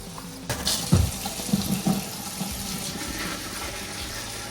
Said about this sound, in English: we're going to rinse these until they're nice and clean